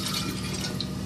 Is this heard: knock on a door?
no